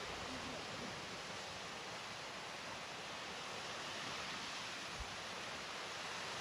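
Waterfall in dense Bhimashankar jungle by a village, a continuous hissing rush of water at moderate distance, steady throughout with one brief low bump near the end and no talking.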